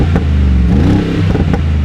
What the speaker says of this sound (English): I do really like this engine,